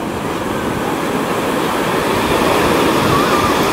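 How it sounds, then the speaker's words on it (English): Ocean waves surging up a beach shore, a loud continuous roar of breaking surf and wash that fills the whole stretch without pause. "and the waves are coming up"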